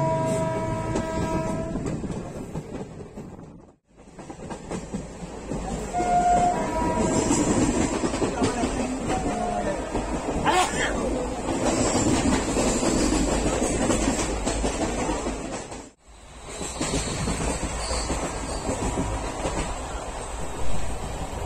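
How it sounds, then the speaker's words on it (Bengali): The Teesta Torsa Express passenger train on the Kolkata to New Jalpaiguri route rumbles along with a steady roar and rhythmic wheel clatter, heard from on board. A brief horn-like tone sounds near the start. "ট্রেন তার আপন গতিতে ছুটে চলল নূতন"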